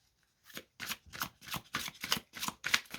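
Tarot cards shuffled and drawn by hand in a series of seven or eight crisp, riffling bursts, close and fairly loud, with short pauses between them and no talking.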